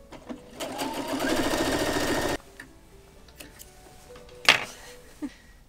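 A sewing machine stitches fabric with elastic on a short stitch length. It gives one quick, loud mechanical burst of under two seconds, then falls quiet apart from scattered clicks and light handling knocks.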